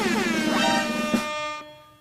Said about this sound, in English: Gotta hit the air horns.